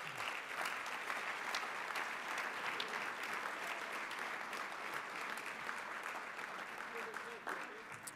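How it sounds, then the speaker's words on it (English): A sustained round of clapping from the audience at a STEM Leadership Committee breakfast fills a large room, steady and even throughout before it fades slightly at the end. "please give them a big round of applause as well"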